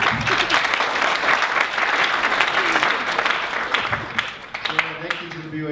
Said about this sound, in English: And just another round of applause for everybody.